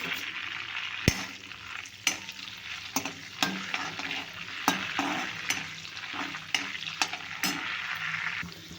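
Whole spices, bay leaf, five cloves and five peppercorns, frying in butter in a pan, a steady close sizzle with periodic sharp clinks of stirring against the metal, no voices.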